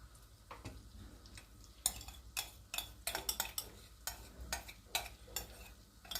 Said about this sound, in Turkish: Şimdi kaynayana kadar karıştırıyorum kesilmesin